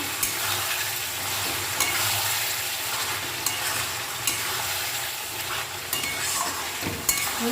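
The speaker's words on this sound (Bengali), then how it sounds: "দিয়ে এটাকে ভালো করে নেড়ে ছেড়ে দিতে হবে" Salted chicken pieces frying in a pan, stirred with a steady loud sizzle throughout and periodic scraping knocks of the spatula against the pan every second or so.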